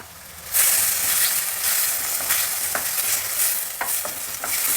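Cumin seeds and finely chopped tomatoes fry in a pan with a loud continuous sizzle, joined by repeated scraping stirs of a spoon, close up and without voices.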